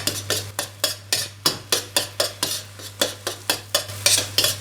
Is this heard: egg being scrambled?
yes